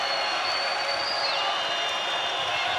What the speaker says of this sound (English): Crowd to their feet here at Purcell Pavillion.